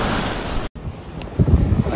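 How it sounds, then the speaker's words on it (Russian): Ocean waves break on a Dominican Republic beach with a loud, continuous wash of surf, mixed with buffeting wind against the microphone, a momentary dropout, then a heavier rumbling surge. "Океан."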